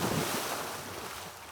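Waves washing onto a beach below a giant waterfall, a continuous broad hiss of surf and water with wind buffeting the microphone, fading slightly over the short stretch.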